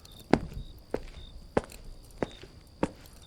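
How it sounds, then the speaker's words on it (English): Heavy footsteps crunch on gravel, five evenly spaced steps that land firmly and close, with no other sound around them. "Heavy footsteps crunched against the gravel."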